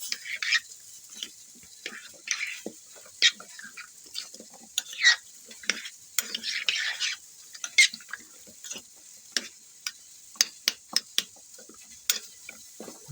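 Seasoning is stirred into food in a crock pot, with a spoon scraping and clicking in short, irregular bursts, some of them sharp taps against the pot, and quiet pauses between them.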